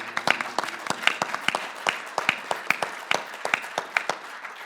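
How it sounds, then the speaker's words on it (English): Scattered audience applause at a cannabis conference in West Virginia, a modest crowd clapping in uneven, distinct claps that rise and thin out over several seconds, fairly close. "please give a round of applause."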